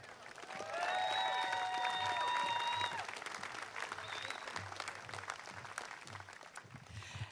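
A crowd at the Illinois State Fair applauds steadily, loud and sustained for a few seconds, then fades into scattered clapping as a whistle cuts through the noise.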